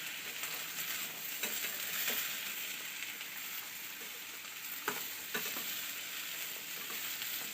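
Green broad beans sautéing with turmeric and chili powder in a hot pan, a steady close sizzle with the scrape of stirring running throughout and a few sharper knocks of the utensil against the pan.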